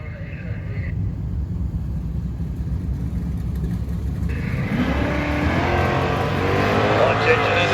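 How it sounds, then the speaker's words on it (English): A 2019 Dodge Hellcat at a drag strip, its engine a steady loud rumble that builds toward the end, with a crowd and track noise around it and a voice over the PA. "Marcus out of Mesa, driving a 2019 Dodge Hellcat"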